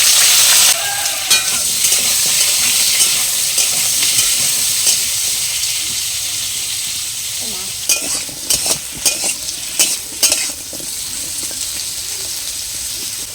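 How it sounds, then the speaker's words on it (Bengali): Pumpkin pieces fry in mustard oil in a wok with a constant loud sizzle, and later a run of quick scraping stirs and clinks breaks in over it, with no talking. "কড়াই সরষের তেল দিয়ে দেবো,"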